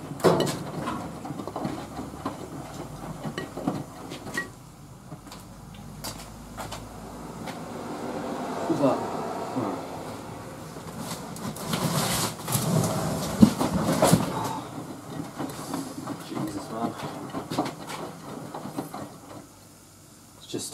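A Miele washing machine on its shuttle rinse cycle, washing a duvet, gives off a continuous churning rumble with swelling and easing surges and faint clicks, heard close and alone.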